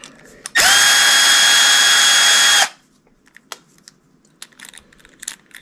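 A power drill whirs loudly for about two seconds as it backs bolts out of an Axial UTB18 RC transmission, then stops abruptly, followed by faint small clicks and handling of loose hardware.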